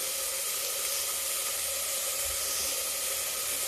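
Potatoes frying in a pan over a lit gas stove, giving a steady, even sizzle and hiss that runs unbroken at moderate level with no talking.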